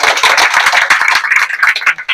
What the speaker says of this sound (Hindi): एक बार जोर से ताली बजाइए आप।